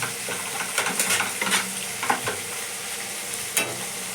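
Continuous sizzling of spices frying in a pan for bitter gourd chorchori, punctuated by scraping stirs of a utensil at irregular intervals, close up without any voices.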